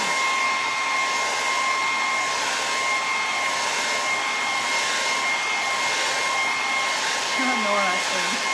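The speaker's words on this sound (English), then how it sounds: "We'll just hit that with the hairdryer for a second." A hair dryer blows with a continuous, even whoosh and a steady high motor whine, close and loud throughout.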